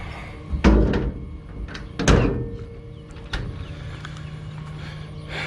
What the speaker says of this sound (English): I gotta shut this door first.